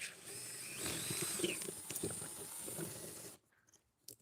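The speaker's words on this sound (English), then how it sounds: "ratchet that out of there" A ratchet wrench removes hardware with a quiet run of rapid clicking and mechanical rattles, fairly faint and close, stopping abruptly near the end.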